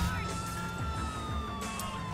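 A police siren drones during a GTA IV video game chase, a continuous wail over engine rumble while someone talks over it and a short burst of noise flares near the end.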